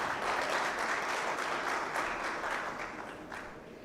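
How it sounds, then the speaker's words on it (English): Conference audience applauding at a national content event, a dense steady wash of clapping that stays loud and then slowly fades toward the end, with no talk over it. "That clapping."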